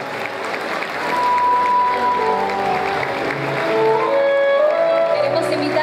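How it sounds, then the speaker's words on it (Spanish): A crowd applauds steadily and loudly throughout a gaucho tradition festival queen ceremony, a dense wash of clapping with some faint tonal sounds mixed in. "Fuerte el aplauso para todas ellas."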